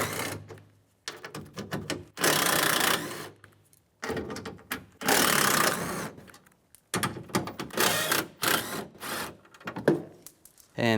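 Ratcheting and rattling of a 10mm socket backing out window regulator bolts inside the door of a 2002-2008 Dodge Ram 1500, in several close, loud bursts separated by brief pauses.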